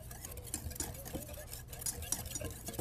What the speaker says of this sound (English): we're just gonna whisk it all together